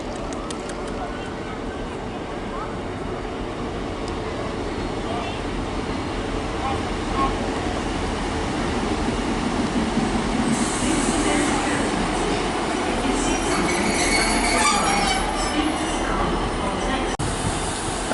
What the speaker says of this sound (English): arriving now is 15266 and 158950. Arriving in on the 1318 Great Western Railway service from Weymouth to Bristol Temple